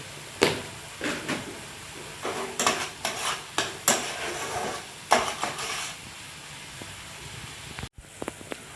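A spoon stirs a spice masala with chili powder in a pan for red sauce pasta, producing a series of close scraping strokes with a faint sizzle underneath, then a brief clatter before quieting.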